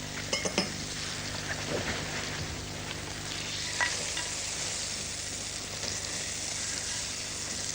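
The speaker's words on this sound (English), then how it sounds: "So, just put the sizzling butter in." Butter sizzling and crackling steadily in a hot microwave browning dish, with a few sharp clinks of cookware near the start and a faint scrape partway through.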